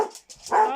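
Toby, a pet dog at home, lets out a couple of short, loud barks close by, the second one longer and more whining.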